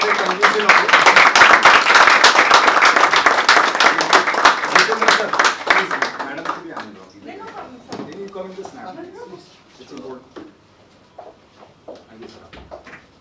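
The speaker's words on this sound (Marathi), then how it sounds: "त्यांच्यासाठी एकदा आपण जोरदार टाळ्या" A crowd claps loudly and continuously for a bronze medal winner at a sports felicitation ceremony, the dense applause thinning out and fading into scattered claps and quiet by the end.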